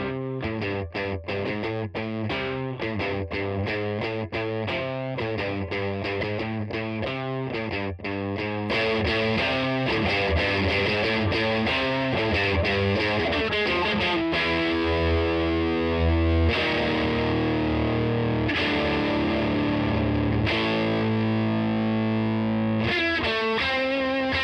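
Electric guitar played through a JHS Colour Box V2 pedal driving the amp into distortion: loud, saturated riffs with quick choppy notes at first, then heavier sustained chords and ringing held notes.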